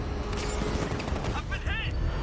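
Rapid bursts of gunfire in a Batman video game, a dense crackling fusillade that runs throughout with shouted voices mixed in.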